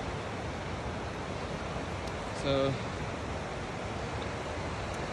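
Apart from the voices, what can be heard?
river flowing at Taughannock Falls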